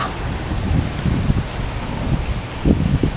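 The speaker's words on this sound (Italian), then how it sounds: "Tempesta di ghiaccio e grandine è vento." An ice, hail and wind storm in Quartu and Cagliari roars with steady precipitation and gusty low rumbles, a continuous stormy wash of noise with no voices.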